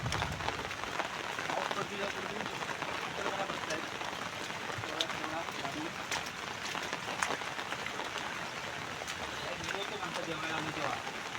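Rain falls steadily over rice paddy fields during Konkan paddy transplanting, a soft, continuous patter with people talking over it.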